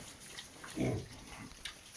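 A single soft piglet grunt in a quiet straw-bedded pen, brief and fairly faint, with a few faint rustles and snorts around it.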